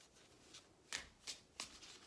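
Tarot cards being shuffled by hand in quick, soft riffling bursts, three distinct papery flutters close by and quiet, with no talking.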